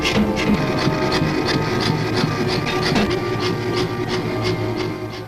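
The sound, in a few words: automatic hammer pounding bell clappers at a bell foundry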